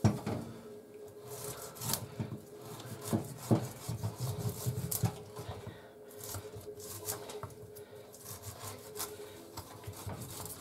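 Close-up rasping and scraping as scales are scraped off a pike, irregular strokes rubbing and crackling against the fish over several seconds, with no talk.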